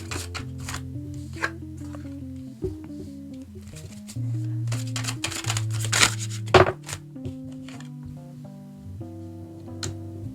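Tarot cards are shuffled by hand in repeated crisp riffling bursts with papery slaps, close and clear, over soft background music.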